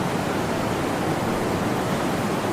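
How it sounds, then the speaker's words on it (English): Massive waterfall roaring steadily, a dense, unbroken rush of crashing water filling the whole stretch at constant loudness with no voices. "The siblings are pulled over the edge of the massive waterfall."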